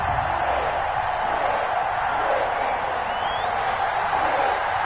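Steady stadium crowd roar in an EA Sports NFL video game ahead of a Buffalo Bills versus Cincinnati Bengals Week 6 matchup, a continuous even wash of distant cheering with no voices on top.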